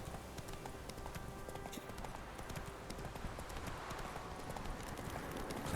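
Horse hooves galloping in The Witcher 3, a steady, continuous clip-clop running under a dense bed of game ambience and music, fairly loud throughout with no talk over it.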